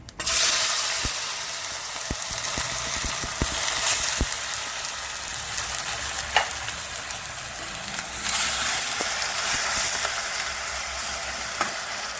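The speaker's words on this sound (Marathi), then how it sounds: "पूर्ण चांगली परतल्यानंतर पहिले टोमॅटो टाकायचे आणि टोमॅटो आपल्याला थोडे शिजवून घ्यायचे" Tomatoes sizzle steadily in a hot pan of oil for a Samvedi-style peanut amti, a continuous close frying hiss broken by a few sharp spatula clicks against the pan, with no talking.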